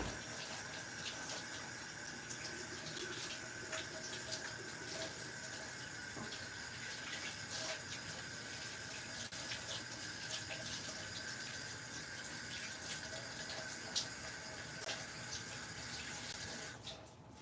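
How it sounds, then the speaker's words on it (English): A kitchen tap runs steadily into a sink while a knife and hands are rinsed underneath, a quiet, continuous stream of splashing water that cuts off at the end. "Let me go wash the knife and my hands."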